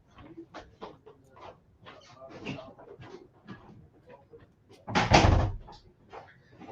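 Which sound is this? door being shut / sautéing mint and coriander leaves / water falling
door being shut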